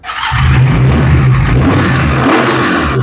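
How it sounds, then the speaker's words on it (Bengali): A Daytona V4 motorbike engine revs hard and close, holding a loud, steady throaty drone for about three seconds with small rises and dips in pitch. No one speaks over it. "তো আমরা এখন ডেটোনার সাউন্ডটা একটু শুনি"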